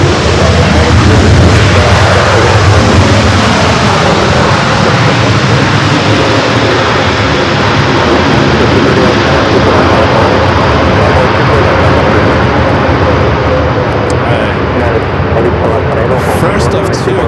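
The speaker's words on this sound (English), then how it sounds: "First of two corporate jets not rolling down at 24 left" A corporate jet takes off down runway 24 left at Los Angeles International Airport, its engines a loud, broad, continuous roar that holds steady throughout, heard from a distance outdoors.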